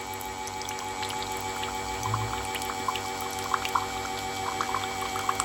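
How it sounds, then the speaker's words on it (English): Water trickles from a rechargeable electric pump on a 5 gallon jug into a glass, a thin steady pour with light splashes over a faint motor hum, close and quiet. "The amount of water coming out is not that much"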